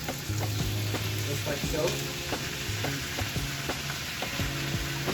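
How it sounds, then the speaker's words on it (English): Bulgogi hisses and sizzles loudly in a hot pan for japchae, with rhythmic stirring knocks throughout and a brief spoken remark over the frying. "So now that it's nice and hot, I wanna put our bulgogi in the pan"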